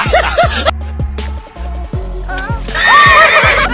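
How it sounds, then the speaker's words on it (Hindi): Two horses whinny and snicker loudly and close by while toying with a water-filled balloon, several rising and falling neighs in quick succession with faint hoof clops. "दोस्तों अब ये दोनों घोड़े इस पानी से भरे गुब्बारे से बार बार पंगे ले रहे थे।"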